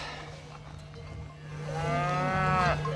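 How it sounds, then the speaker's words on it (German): Cattle with large and small cowbells on a mountain pasture at 1525 metres, a loud drawn-out moo rising in the second half over soft background clanking and a steady low hum. "gibt es immer eine Leitkuh mit der großen Glocke und dahinter kleinere mit den kleinen Glocken."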